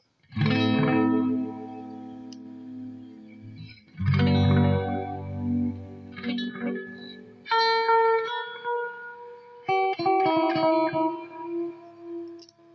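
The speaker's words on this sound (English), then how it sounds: "I have it in chorus mode, so when I bump up the modulation just a little bit" An electric guitar rings out through a chorus pedal in chorus mode, its notes shimmering and wavering with a warbly modulation, a few sustained strums and picked phrases.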